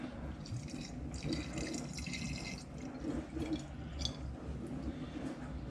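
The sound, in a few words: vodka pouring into bottle of crushed toffee, sugar and spice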